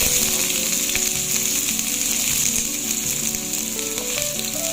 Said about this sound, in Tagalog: mainit na yung ating frying pan. Lagyan na natin yung ating garlic. Sunod na rin natin ang onion.